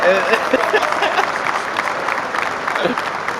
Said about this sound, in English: let me give you that short applause again